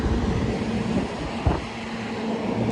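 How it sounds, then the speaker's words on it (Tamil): Cooling fans running around a transformer's radiator, a loud, steady, broadband rushing hum with a low drone, heard close up and continuously. "இதுல எல்லாம் சுத்தி ஃபேன் கொடுத்துருக்குறாங்க."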